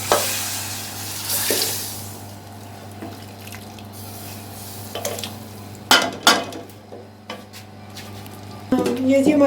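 Spices for tempering crackle and sizzle in hot oil, with a few sharp pops and clinks of a pan, over a steady kitchen hum.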